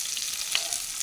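Fennel seeds and cumin frying in oil for a pepper chicken gravy, a brief steady sizzle with a soft pop, close and even, no voices.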